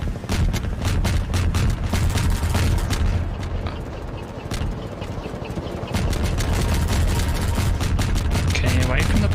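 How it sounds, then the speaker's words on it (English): Heavy rumbling blasts and rapid cracks from a bombing raid in Half-Life 2 roll on without a break, loud and dense, with a voice talking over the barrage. "Bombing raid."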